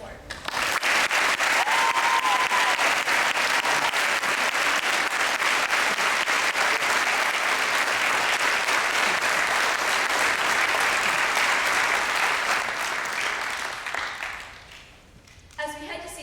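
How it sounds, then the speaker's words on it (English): An audience at a school graduation speech breaks into sustained, loud applause, a dense wash of clapping lasting over ten seconds before fading out. "please join me in applauding the commitment, talent, and dedication of our fabulous teachers"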